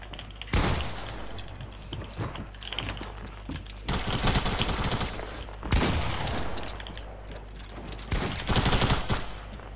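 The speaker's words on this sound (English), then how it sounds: "Oh, someone's shooting at me." Gunfire in the video game Fortnite comes in several rapid automatic bursts of cracking shots, loud and close, spread across the stretch with quieter gaps between them.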